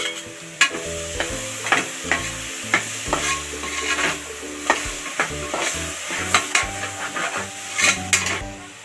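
Vegetables are sautéed with masala and curd for vegetable biryani, a spoon repeatedly scraping and knocking the pan in an uneven rhythm over a continuous close sizzle.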